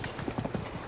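Horse hooves in Zelda: Breath of the Wild, a quick galloping clip-clop with steady repeated beats, close and clear, with no talk over it.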